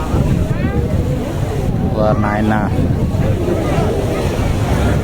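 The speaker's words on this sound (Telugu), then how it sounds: "ఇప్పుడే మన బోటు వివేకానంద రాక్ దగ్గరకు వచ్చింది" Tourist ferry boat reaching Vivekananda Rock off Kanyakumari, its engine rumbling steadily with wind buffeting across the deck while passengers talk throughout.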